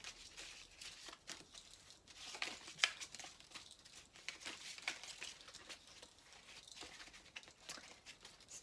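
An oracle card deck is shuffled by hand, producing soft, continuous papery riffling and crinkly card friction in irregular bursts, fairly faint and close, with no talk.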